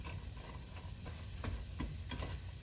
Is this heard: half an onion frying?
yes